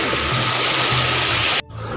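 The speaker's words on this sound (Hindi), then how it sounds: "देख सकत हो एला वाटरफॉल बना दे है पूरा फोड़ के" Floodwater gushes through a burst embankment at the edge of a village farm field after heavy rain, pouring like a waterfall in a loud, continuous roaring rush with a brief dip near the end.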